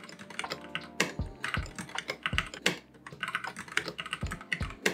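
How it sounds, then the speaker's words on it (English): Rapid typing on a computer keyboard, a steady run of close, crisp keystrokes with a few heavier key presses standing out, with no talking. "Typing."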